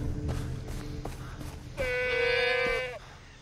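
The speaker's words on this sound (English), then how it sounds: "Goats." A single long, wavering goat bleat from the video game Far Cry 3 rings out clearly over soft background thumps and ambient noise, lasting about a second.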